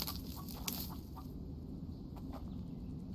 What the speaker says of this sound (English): that chicken is asking for some attention, it seems